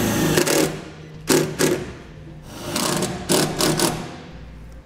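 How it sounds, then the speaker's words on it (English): A power driver sets four self-tapping screws to mount a replacement pigtail wiring harness plug in a vehicle bumper, giving several short whirring bursts of varying length separated by brief pauses, close and fairly loud. "I'm going to be using 4 self-tapping screws to put this in place."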